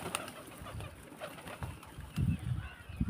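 Colorful pet pigeons coo softly nearby, low rolling murmurs that come in a few short pulses, faint and alone.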